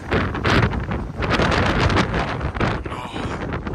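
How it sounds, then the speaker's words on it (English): Strong wind buffets and roars across the microphone in gusts in Washington DC, loud and continuous with no voices. "Just listen to the wind."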